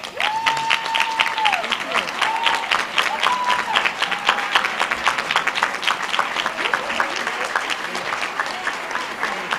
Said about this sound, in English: You should all rise and thank them with a big round of applause.